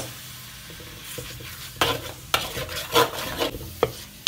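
Bay leaves, lime leaves, lemongrass, ginger and galangal sauté over low heat in a pan, giving a steady soft sizzle broken by several sharp stirring scrapes and clacks, close and moderately loud with no talking.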